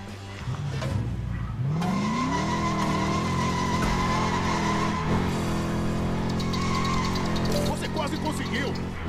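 A LEGO car drifting in LEGO 2K Drive, its engine droning and rising in pitch while the tires squeal in a long continuous skid, loud and close, with a voice talking over it.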